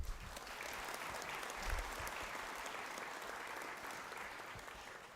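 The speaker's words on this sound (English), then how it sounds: "I ask you to give Dervla a round of applause." Steady audience applause at a university conferring ceremony greeting a graduate, a dense wash of many hands clapping that holds evenly throughout and eases slightly at the end.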